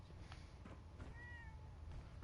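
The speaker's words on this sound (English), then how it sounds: "Aw, there's a kitty cat." A cat meows in Fallout 4, one soft mewing cry near the middle over a low, steady game ambience.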